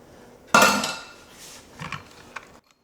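Heavy whipping cream being mixed in a bowl for a white chocolate cranberry cheesecake, heard as a loud clattering scrape of a utensil against the bowl followed by a few lighter clinks and taps, close and without talk.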